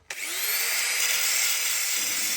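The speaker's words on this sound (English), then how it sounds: "So same again, just with the finger file." Finger file belt sander grinding a steel car panel during a panel repair, a steady loud whine that spins up at the start and holds for a couple of seconds, no talking.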